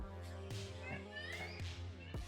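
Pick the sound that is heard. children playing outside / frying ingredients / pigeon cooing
children playing outside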